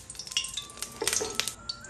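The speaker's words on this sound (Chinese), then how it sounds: "油热以后把锅端起来滑一遍锅" Hot oil swirled around a wok lifted off the heat, a soft quiet sizzle with light metallic scraping and clinks, close by.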